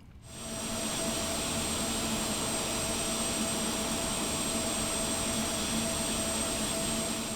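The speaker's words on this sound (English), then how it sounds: "once the engine is started, we're gonna go ahead and turn on the generator for the right engine" A simulated Carenado 390 Premier 1A business jet engine in X-Plane 11 spools up from quiet into a steady, loud whine and rush that holds for several seconds, with no talking.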